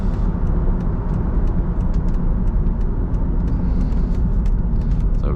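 A car drives along a road with a steady low rumble of engine and tyre noise, constant and close, with brief faint ticks and no talking.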